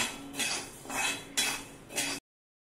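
Rice dry roasting in a pan for metkut spice powder, heard as four bursts of scraping and grainy rattling as the grains are stirred, fairly quiet and with no voices.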